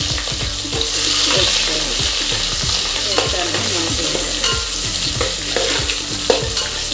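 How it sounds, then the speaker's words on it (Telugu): Green chillies frying in hot ghee in a pan for vegetable biryani, with a steady loud sizzle and repeated scraping stirs of a utensil against the metal, close up with no voices. "పచ్చిమిరపకాయలు ఇవన్నీ నెయ్యి ఫ్రై కావాలి"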